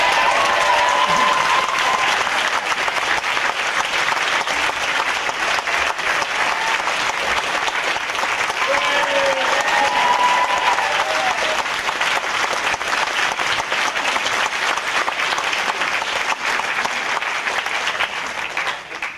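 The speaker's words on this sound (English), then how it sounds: "Just a round of applause for the orchestra, please." Theatre audience applauding the orchestra after a musical production, a long sustained wave of loud clapping with a few faint voices and whoops mixed in.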